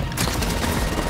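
Automatic weapon fire in Wolfenstein Youngblood, a loud continuous fusillade of rapid shots starting almost at once and running to the end of the short stretch.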